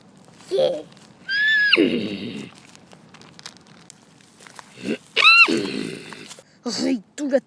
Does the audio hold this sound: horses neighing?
yes